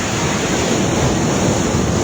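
Ocean surf at a surfing beach at Vales Beach Resort in Toril, Davao City rolls in a constant broadband wash with wind buffeting the microphone, loud and steady throughout without talk.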